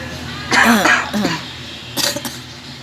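A few harsh, close coughs in short bursts, with brief pauses between them, during a nebulizer session.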